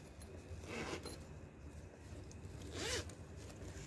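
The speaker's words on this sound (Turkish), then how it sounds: "Bakın şöyle yanda yine fermuarlı bir gizli cebi var" A zipper on the hidden side pocket of a handmade paper-cord clutch bag is pulled open and closed in two quick rasping strokes. The sound is close and clear, with no talk.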